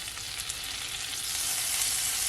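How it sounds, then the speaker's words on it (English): Unsalted butter melts in a pan with a dense, even hiss and crackle, close and steady, growing slightly louder over a couple of seconds. "So now that my butter is all melting"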